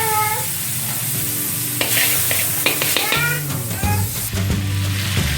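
Margarine sizzles in a pan on a stove with a steady frying hiss, joined by scraping stirs and clinks of a utensil, loud and close, and no one talks.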